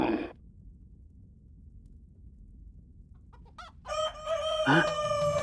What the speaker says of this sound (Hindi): ये ऐसी वैसी मुर्गी नहीं है, वासुदेव की मुर्गी है, रूपवती।